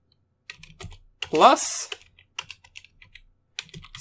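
Scattered keystrokes on a computer keyboard during Python coding, a few soft taps at a time between bursts of speech from a nearby voice.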